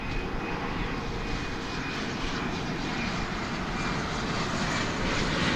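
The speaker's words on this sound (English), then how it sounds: "Back to the aircraft with a CRJ" Bombardier CRJ-701 regional jet at DFW airport, its engines giving a steady, loud, broadband roar that holds even and continuous throughout, with no voices present.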